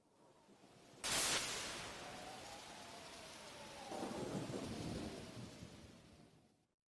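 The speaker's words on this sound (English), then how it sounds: "Whoa, that lightning's intense! Looks like it's really a stormy tonight." A sharp crack of thunder bursts during a stormy night in Pokémon Mystery Dungeon: Explorers of Sky, over steady rain, then trails into a long rumble with a second rolling swell before the storm fades out, with no voices.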